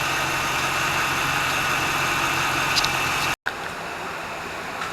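A truck engine with lifter tick idles steadily with a constant mechanical rumble and faint ticking, briefly cut off by a short silent gap before resuming.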